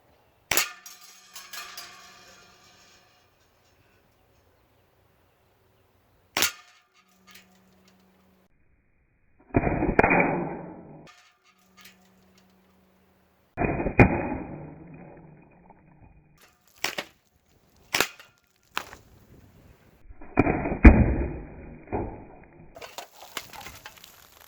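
Sig Sauer MPX semi-automatic .177 pellet air rifle, a full-metal M4 replica, firing at a lollipop target: sharp, snappy shots with several impact cracks and a few clustered bursts separated by quiet gaps.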